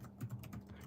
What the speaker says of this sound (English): Just typing practice indeed.